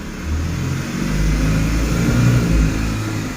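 A Tata Nano's small car engine starts and settles into a steady, close, low running drone, holding loud and even throughout with no talk over it.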